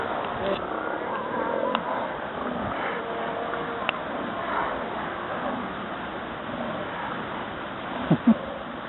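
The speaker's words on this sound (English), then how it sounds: "That's a seal." Seals grunt and rumble with low, throaty calls over a murky background of water noise, with a couple of sharper sounds near the end.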